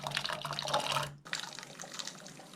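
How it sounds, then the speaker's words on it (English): Drained garbanzo beans tumble and splash into a pot about three-quarters full of water, a busy wet pour that breaks off briefly midway, then resumes. "I'm gonna pour them in the pot."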